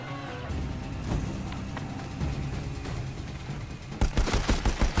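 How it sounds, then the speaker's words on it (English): Machine gun fire in Horizon Zero Dawn, a rapid burst of rattling shots cutting in over a busy rumbling battle din toward the end. "Oh yeah, he has a machine gun, okay."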